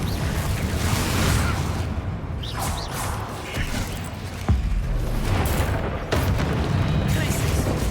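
Confringo blasting spells exploding in the game Hogwarts Legacy, several booms and crashes amid dense, cluttered combat noise, with voices heard among the blasts.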